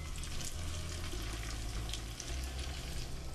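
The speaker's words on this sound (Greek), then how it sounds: "Ρίχνουμε το κρεμμυδάκι το φρέσκο στην κατσαρόλα" Fresh spring onions and leeks sizzle steadily in a pot, a continuous close crackling hiss with a low hum underneath and no talking.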